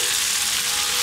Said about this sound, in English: Saute it all together.